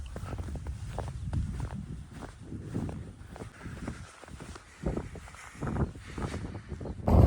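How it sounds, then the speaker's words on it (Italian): Strong wind gusts across the Bocchetta mountain pass at 1563 metres, buffeting the microphone with loud, uneven rumbling bursts and a surge at the end, alongside faint footstep-like crunches. "Vento forte qui in Bocchetta, 1563 metri"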